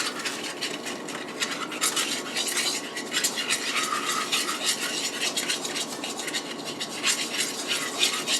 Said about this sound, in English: now I'm going to take my whisk